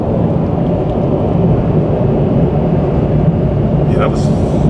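A 2023 Nissan Z with an automatic transmission drives along, its engine and exhaust forming a loud, steady low roar heard from inside the car, with no talk.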